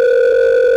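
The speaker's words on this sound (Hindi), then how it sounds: "अरे फोन क्यों काट रहे हो तुम?" After a phone call is cut off, a loud steady electronic tone hums without a break, a pure sustained disconnection beep heard alone and up close.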